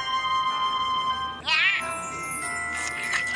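A small orange kitten gives a sharp, rising meow while being fed, heard close against a steady tonal background.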